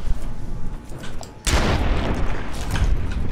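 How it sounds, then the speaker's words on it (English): A thrown grenade detonates in Fallout: New Vegas, a sudden loud boom midway followed by a sustained rumbling roar of debris and gunfire-like crackle. "I'll lob a grenade into their mist."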